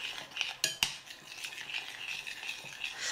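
A utensil stirs melted chocolate briskly in a bowl while tempering it, producing quick soft scraping strokes with a few sharp taps against the bowl, close and fairly quiet.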